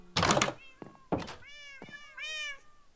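Cats meowing in a video game, set in a cat café room with chairs, tables and paintings, reached through an airlock with a bell: several short melodic meows in a row, with a couple of soft thuds and a burst of noise at the start.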